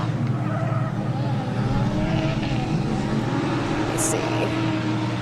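Mark III Toyota Supra drift car, street driven, at a drift competition track, its engine droning steadily and loud throughout with tire noise mixed in, under a constant roar.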